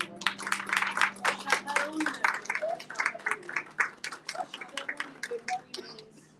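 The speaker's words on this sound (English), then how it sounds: "she deserves another round of applause" Audience applause at a cultural performance celebrating Tagore and Nazrul, a dense, steady round of many hands clapping close by for several seconds, with a faint sustained tone underneath.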